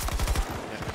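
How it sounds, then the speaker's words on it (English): Rapid burst from an AC-42 light machine gun in a first-person shooter, a fast rhythmic string of punchy shots that thins out toward the end. "I got one burst of an AC-42."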